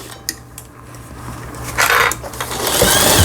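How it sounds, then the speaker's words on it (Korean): A Singer 8280 home sewing machine, just repaired, runs a zigzag stitch at close range, its needle mechanism whirring in a steady burst that builds toward the end of the short stretch with no talking. "지그잭 바느질 정상적으로 되고 있습니다."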